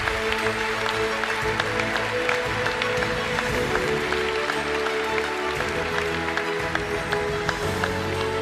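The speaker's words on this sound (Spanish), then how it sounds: "Y pido un aplauso" An audience at a national canoeing awards gala applauds steadily, a dense, even wash of many hands clapping in a large hall for the whole stretch, with a low hum underneath.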